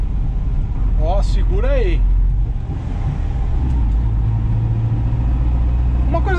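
Volkswagen Kombi with an air-cooled boxer engine pulling in second gear, a steady low engine drone and rumble running throughout, while someone speaks briefly over it.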